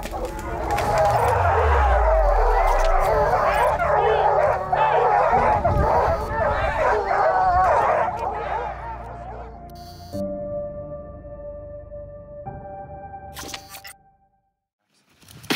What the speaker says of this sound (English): We're getting closer and the roar of the dogs is just getting louder and louder.